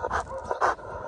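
A large dog on a leash pants and huffs in short, close breathy bursts, with faint whimpering tones and no voices.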